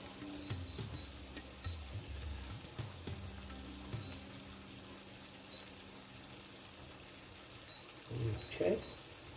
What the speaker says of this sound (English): Now while that's just sizzling away